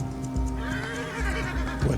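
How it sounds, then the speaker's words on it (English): A skittish Arabian horse in Red Dead Redemption 2 lets out a close, loud, drawn-out whinny over a low continuous rumble, with a few hoof clops toward the end. "Try to calm the horse down a little."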